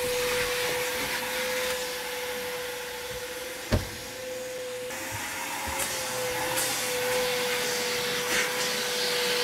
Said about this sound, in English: if you wanted to know what a vacuum cleaner sounds like in the middle of a YouTube battery